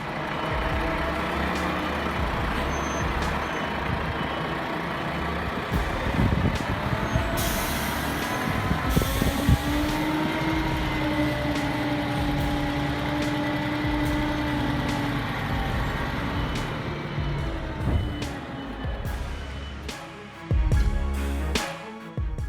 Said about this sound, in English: just watch this Scania G490 casually back down a slope with 32 tons